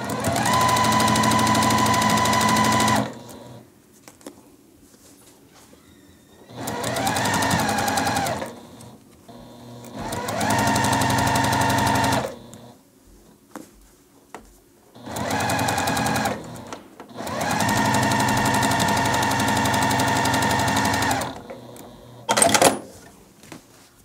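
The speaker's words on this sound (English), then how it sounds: "Then I'm going to take this over to the sewing machine, and we're going to sew 1/4 inch down this edge" Sewing machine stitching a quarter-inch seam on a churn dash quilt block, running in five steady bursts of a few seconds each with short quiet pauses between, loud and close with no talking.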